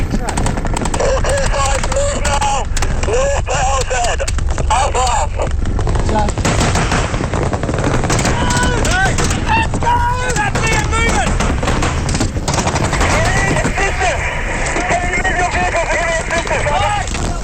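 Heavy automatic gunfire rattles nonstop during a firefight in an ambush, with loud bursts and scattered shots layered over shouted voices throughout.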